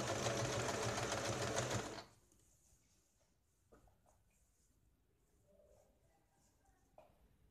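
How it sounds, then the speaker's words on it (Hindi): A sewing machine stitching piping on a blouse runs in a loud, close, steady whir for about two seconds, then stops, leaving quiet room tone with a few faint handling clicks. "यहाँ पे हमें क्वार्टर इंच छोड़ के यहाँ पे हमें सिलाई लगानी है।"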